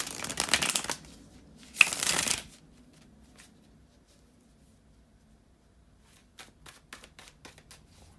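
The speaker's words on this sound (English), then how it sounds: "bear with me just a second, guys, to shuffle the tarot cards" Two brisk bursts of tarot cards being shuffled close by, then quiet, followed by a run of light clicking taps as cards are handled and laid down.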